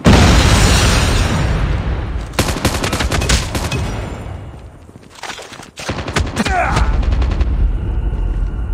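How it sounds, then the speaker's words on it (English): Gunfire and explosive booms from a Call of Duty match, with a grenade blast among rapid bursts of shots, loud and continuous with a brief dip in the middle before the firing resumes. "Grenade out!"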